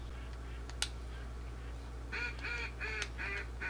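Several ducks quack and honk in a duck hunting video game, a run of short nasal calls in the second half over a steady low background hum, preceded by a sharp crack.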